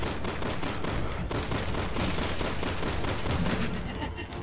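Sustained rapid gunfire from the video game Resident Evil 6, loud and continuous for several seconds, with dense repeated shots layered over game sound and no clear talking.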